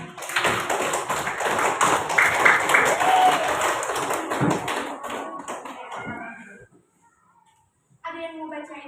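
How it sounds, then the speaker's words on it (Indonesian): A classroom of students claps for a classmate who read aloud, a dense burst of hand clapping lasting several seconds before cutting off into silence, followed by a voice speaking. "kasih dulu tepuk tangan sama dia karena udah berani dia membaca"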